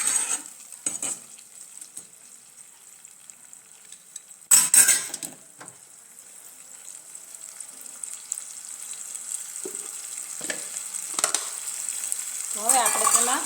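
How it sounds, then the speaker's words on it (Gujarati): Crushed tomato gravy goes into a hot pan for sev tamatar sabji, bringing a soft sizzle and scraping spoon strokes, with a few sharper utensil clinks against the pan; the frying hiss gradually builds, and there is no talk. "હવે આપણે તેમાં જે ક્રશ કરીને ટમેટાની ગ્રેવી બનાવી હતી તે ઉમેરી દેવાની છે અને તેને પણ મિક્સ કરી લેવાની છે"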